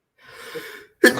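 A single person sneezes: a short breathy intake builds for most of a second, then a sharp, loud burst of the sneeze, close and alone.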